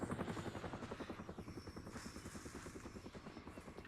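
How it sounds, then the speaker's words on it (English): A video game helicopter's rotor thumps in a steady rapid beat, loud and close, with a low mechanical drone beneath it. "Oh, helicopter?"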